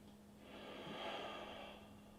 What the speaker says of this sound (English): As you can hear, I am breathing.